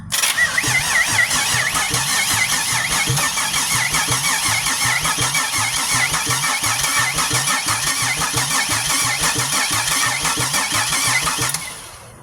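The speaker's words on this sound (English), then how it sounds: "I want to crank the engine over" A supercharged V6 engine in a 2006 Grand Prix cranks over steadily with rhythmic, repeated chugging pulses, loud and close, for about eleven seconds before stopping.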